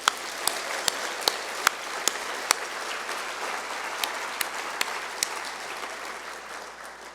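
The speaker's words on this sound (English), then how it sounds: "let's just pause and give them a round of applause" A ballroom audience at a charity lunch claps in a steady, broadband wash for several seconds, with a few sharp individual claps standing out and the crowd noise fairly distant.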